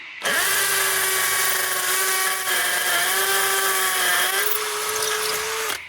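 A Bosch GSB 18V-21 cordless hammer drill whines at a steady high pitch for several seconds, close and loud, dipping slightly midway as it bores in, then stops.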